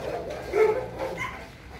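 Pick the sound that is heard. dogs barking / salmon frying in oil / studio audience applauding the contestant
dogs barking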